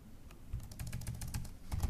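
Rapid clicking keystrokes on a computer keyboard while composing an email, a quick, close run of light taps that grows slightly louder toward the end.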